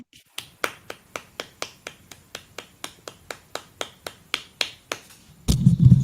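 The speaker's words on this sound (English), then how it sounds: "You hear that hand clap?" About twenty sharp, evenly spaced hand claps from one person, close and crisp in a quiet room, followed by a brief burst of louder noise at the end.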